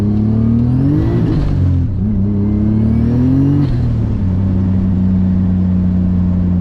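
Turbocharged BMW M50 straight-six in an E34 revving hard on a dyno, two rising pulls in close succession with a climbing whine, then settling to a loud steady drone.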